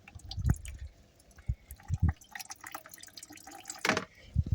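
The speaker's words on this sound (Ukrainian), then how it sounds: "Ось так у нас подається вода з нової мембрани." Faint, irregular drips and small splashes of water trickling from a new reverse osmosis membrane, quiet and close, with scattered wet bursts.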